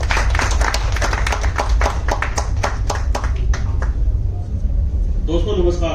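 An audience at a business orientation meeting in a hall claps to welcome a speaker onto the stage, a dense burst of applause that thins out and fades after a few seconds.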